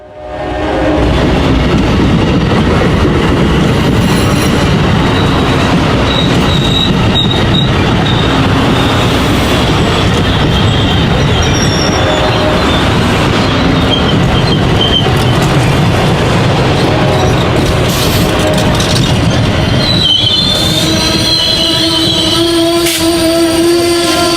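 Heritage-livery freight train on a Norfolk Southern or CSX line rolling past loud and close, with a steady roar of wheels and cars, some metallic squeals and a horn-like tone near the end, no voices.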